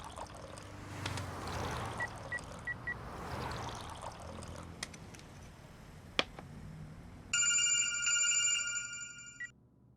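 A telephone ringback tone comes after a number is dialed: a steady, loud electronic ringing enters near the end, clear over the quiet background of an indoor room.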